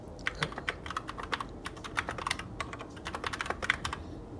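Typing on a Keychron K2 aluminum mechanical keyboard, close and fairly quiet, with quick irregular clacky keystrokes in short bursts and no talking.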